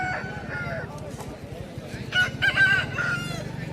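Aseel rooster crowing at a busy Odisha chicken market, a loud near crow rising out of a background of other fowl and crowd murmur, with voices talking underneath.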